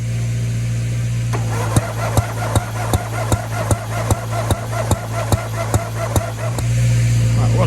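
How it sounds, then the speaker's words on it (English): A Gravely zero-turn mower engine with valves out of adjustment idles roughly while backfiring in a run of sharp, evenly spaced pops, about a dozen over several seconds, loud and close over the engine drone. "but it's backfiring, so I'm going to say the valves are out of adjustment"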